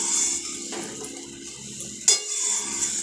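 Vegetables with spices being stirred and fried in a pan: a steady frying hiss broken by sharp metallic clinks of a utensil against the pan.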